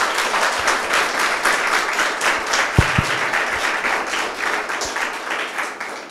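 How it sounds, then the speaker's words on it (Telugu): An audience at a film school event claps in sustained, dense applause that stays fairly loud throughout, with a few sharper individual claps standing out. "ఒకసారి క్లాప్ చేయండి అందరూ"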